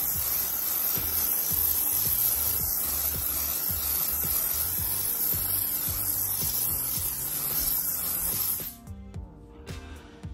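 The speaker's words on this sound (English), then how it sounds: "And this, my darling, is a spray." A spray bottle hisses onto skin during a chemical peel in a long continuous burst, close and loud, over faint background music, then stops abruptly near the end.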